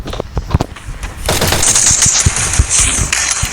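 Rapid gunfire from the video game Free Fire, loud close bursts of automatic fire with sharp shots cracking over a dense, sustained din, no talk heard.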